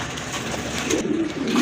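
Fancy pigeons of the Rajgolla type offered for sale give a brief, close, soft cooing call, heard alone.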